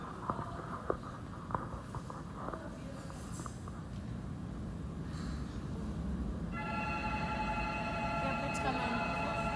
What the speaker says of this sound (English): The train might be coming.